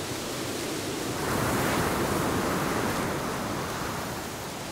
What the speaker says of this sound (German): Der Wind ist gerade mega laut.